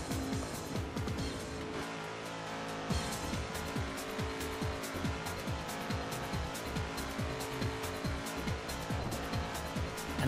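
Mad Max car in the Assetto Corsa racing game, with a loud engine revving through repeated rapid gear shifts and tires squealing in skids, continuous and close.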